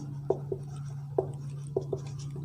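A pen taps and scratches on paper in short separate strokes while notes are written during a science lesson, each mark quiet over a steady low hum.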